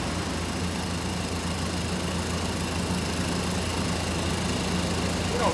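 A 1987 Chevrolet Suburban barn-find truck runs at a steady, low idle drone with a faint hum, unbroken and moderately distant, with no talking.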